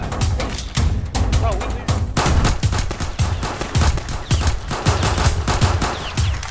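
Rapid gunfire in a Roblox hood roleplay game, dense loud bursts of repeated shots in quick succession throughout, with voices chatting underneath.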